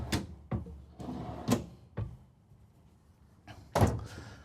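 Deep storage drawers in a 2025 Renegade Valencia 36SB motorhome slide open and shut several times nearby, each stroke ending in a soft wooden thunk, with a louder slam near the end.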